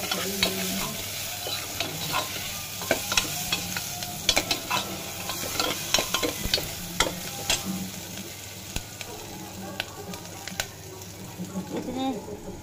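Onions with cumin and asafoetida fry in a pan: a continuous sizzle broken by frequent scraping and clattering of a spatula as it stirs, with a voice speaking faintly at times.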